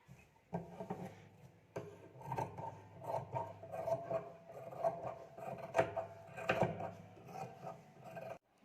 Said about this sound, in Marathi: आता आपण जो शिल्लक कपडा आहे तो इथे सर्वात आधी कटिंग करून घेऊया